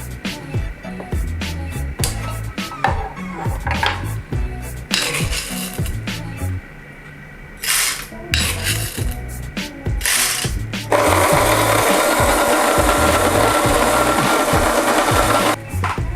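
Coffee beans ground in a grinder beside a Delonghi EC658 espresso machine: rattling mechanical clatter at first, then a steady loud grinding whir near the end, close and alone.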